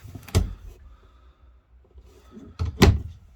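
Two short sliding thumps of a storage drawer above the kitchen in a 2022 Coleman Lantern 17B travel trailer being moved, one early and one near the end, separated by quiet with faint clatter.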